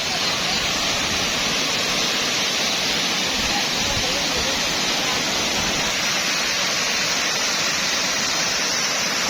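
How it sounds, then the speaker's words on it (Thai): A waterfall at a rope-swing jumping spot in southern Laos pours in a dense, unbroken roar, loud and close for the whole stretch with no pauses. "จุดนี้เป็นจุดโหนเชือกกระโดดเชือกสลิงใส่น้ำตก"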